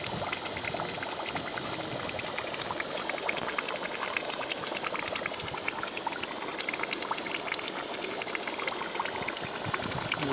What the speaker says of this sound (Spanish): se nota la ebullición, altas temperaturas